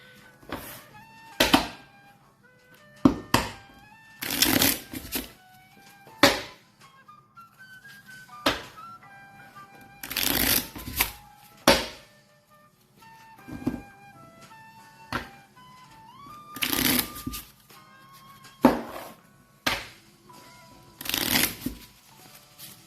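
A deck of cards for the board game Habitats is shuffled repeatedly, sharp riffling bursts at irregular intervals with gentle background music playing between them.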